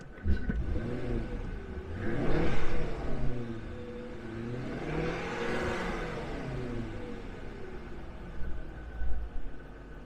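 A Jaguar S-type with a newly fitted engine revs up twice with rising, swelling roars, then settles into a steady close idle rumble between them, with no talking over it.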